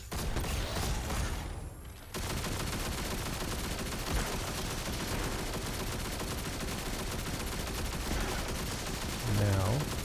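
Rapid weapon fire in Destiny 2 during a legendary Lost Sector fight, sustained bursts dense and loud through most of the stretch, with a brief lull near the start and heavier impacts toward the end.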